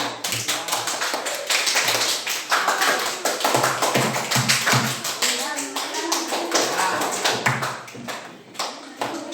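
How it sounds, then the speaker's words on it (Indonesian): Classroom of schoolchildren clapping for their classmates after presentations, a dense, uneven patter of many small hands filling the room, with children's voices chattering underneath throughout. "Tepuk tangan buat semuanya"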